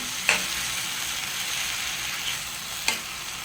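Tomato puree for pav bhaji sautéing in a pan, a steady close sizzle with two sharp scraping stirs of a spatula breaking through.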